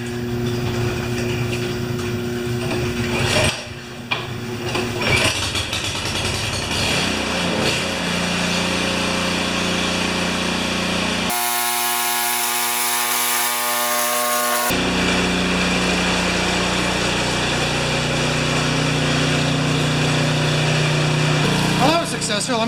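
A Murray snowblower engine runs steadily after a pull start, a loud, continuous mechanical drone that persists across the clip, briefly broken by a sharp pause before the roar resumes.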